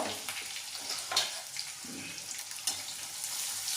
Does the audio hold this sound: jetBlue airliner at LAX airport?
no